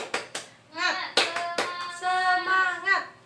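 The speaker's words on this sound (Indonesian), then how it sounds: "kita tepuk semangat dulu ya, biar kalian itu tidak pada ngantuk" A classroom of children performs the rhythmic 'tepuk semangat' spirit clap: sharp clap bursts land in a patterned sequence, and the kids chant along between and over the claps.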